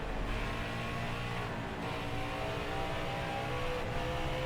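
A race car engine in the NASCAR Heat 5 video game at Bristol drones loudly and steadily under throttle, holding a constant rumbling tone throughout.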